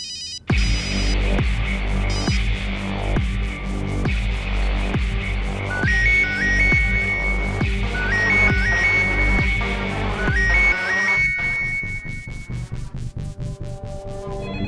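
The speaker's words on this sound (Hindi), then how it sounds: "फोन क्यों नहीं उठा रहे हो?" A repeating electronic ringtone plays over a steady throbbing musical backdrop, its melodic tones recurring in short bursts before cutting off near the end.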